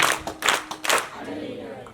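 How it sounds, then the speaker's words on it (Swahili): A congregation at a Catholic Mass claps together in a few quick bursts, several close rounds of hand claps fading into a brief murmur of voices. "Piga makofi ya Kikristo wote jamani."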